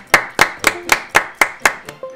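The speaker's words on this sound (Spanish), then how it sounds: "aplausos para este hombre" A small group claps in quick, evenly spaced bursts, about eight sharp claps in two seconds, close and loud, with a faint voice at the very end.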